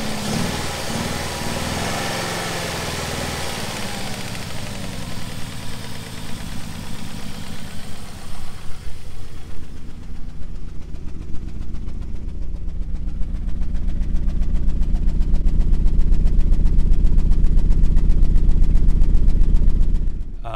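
A Ford Focus ZX3 engine idles roughly with a suspected ignition coil fault, its steady low rumble growing louder and uneven near the end, heard alone with no talking.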